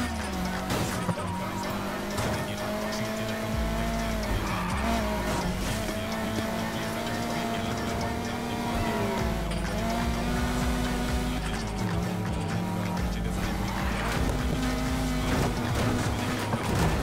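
Race cars in Need for Speed Heat roar steadily with a sustained engine drone that rises and falls as gears shift, loud and continuous across the whole stretch, with game music or effects layered beneath.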